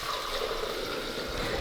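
Water pouring and sloshing while a Delonghi Dedica espresso machine's water tank is rinsed out during descaling, a steady close trickle with no talk.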